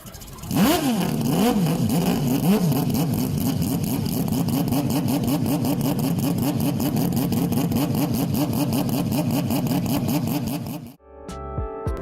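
A four-rotor rotary engine idles with a lumpy, pulsing burble, rhythmic and steady, then briefly cuts out near the end; close and loud, no talking.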